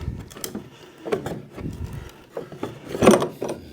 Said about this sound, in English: So what we're gonna do is just yank, pry, hope for the best.